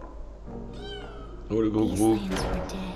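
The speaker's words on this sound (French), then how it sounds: "C'est un chat!" A cat meows in the video game Inmost, a short rising-and-falling meow followed by a person talking over the game sound.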